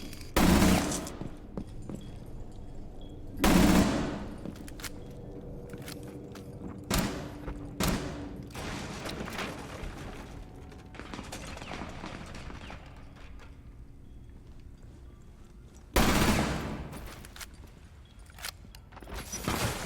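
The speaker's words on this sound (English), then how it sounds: "And then they get shot from the window." Gunfire in a Ubisoft shooter video game: a few sharp, loud bursts spaced far apart over a low, steady game background, with scattered faint clicks and thuds between them.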